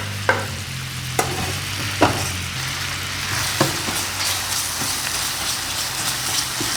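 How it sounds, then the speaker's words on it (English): Leeks sizzle in leftover butter and chicken fat in a pan, with a steady frying hiss and a few sharp, separate scraping strokes of a utensil across the pan bottom early on. "I'm going to go ahead and scrape those leeks off in there."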